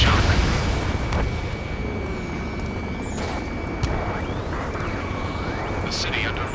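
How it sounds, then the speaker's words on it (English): Explosions and gunfire rumble through a city under martial law in the Ace Combat 7 video game, a dense, steady wash of booms and crackle with sharper bursts near the middle, lasting throughout. "Gunfire and the roar of jets echoing through the streets"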